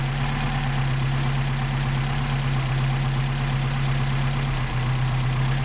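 Mercedes-Benz 190SL engine idling steadily on its Solex carburetors during a tuning test, a constant loud low hum with even firing throughout and a brief dip near the end, no talking.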